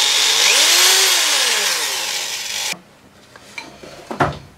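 A corded drill-driver meant mainly for driving screws spins at low speed, giving a loud motor whine that swoops in pitch before cutting off abruptly, followed by a few light clicks and handling knocks.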